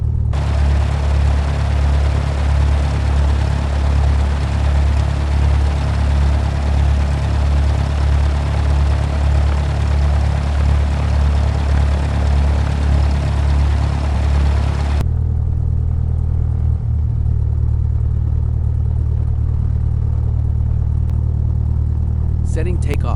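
A Cessna 172 engine at run-up in Infinite Flight: a steady, loud piston drone holds for about fifteen seconds, then drops abruptly to a lower, quieter idle rumble.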